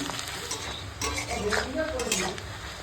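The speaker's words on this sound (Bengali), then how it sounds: "দিয়ে পেঁয়াজ কাঁচা লঙ্কা একসঙ্গে ভেজে নিচ্ছি তেজপাতার ফোড়নের সঙ্গে" Onion and green chilli frying in oil with bay leaf, a steady soft sizzle under the scrape and clink of a spatula stirring in the pan, close by.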